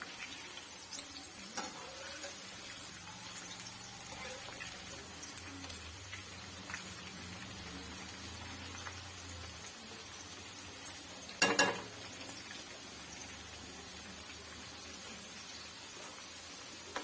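Ivy gourd (kovakka) pieces frying in a pan, a soft, rain-like steady sizzle over a long stretch, with one louder clattering burst as they are turned over, then the hiss continues.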